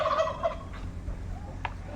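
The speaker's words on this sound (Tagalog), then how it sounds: "Oh, may manok." A chicken's call rings out, fowl-like clucking and a brief higher squawk, over faint background rumble.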